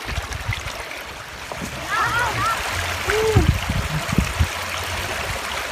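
Clear, shallow river water flows in a village stream, gurgling and splashing steadily nearby, with bird calls and a person's voice briefly rising over the running water.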